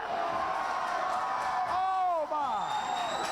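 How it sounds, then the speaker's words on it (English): A wrestling crowd in Sparta, Tennessee roars and cheers loudly throughout, a dense wash of voices, while a higher voice rises and falls in sweeping whoops and shouts above the din. "The crowd in Sparta is going wild."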